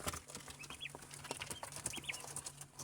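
Chickens clucking on a poultry farm raising young birds, with short bursts of clucks and chirps scattered across a steady barn hum, fairly close and moderately loud.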